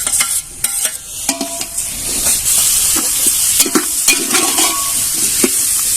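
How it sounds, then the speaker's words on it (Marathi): Apple and chikoo pieces sautéing in a pan for a fruit kheer, with a steady loud sizzle and repeated spoon scrapes and stirring clatters spread across the whole stretch, and no talking. "इथं आपण आता फळं टाकून घेतोय सफरचंद आणि चिकू ते पण छान अशी परतून घ्यायचे"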